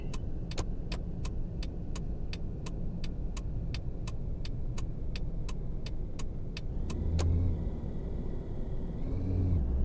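Taxi engine in the driving game Taxi Life, a steady low rumble while cruising city streets at night, with a regular ticking indicator clicking over it and a rising hum near the end.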